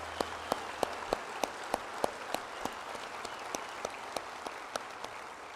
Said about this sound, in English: take a moment and clap for the generosity of the donors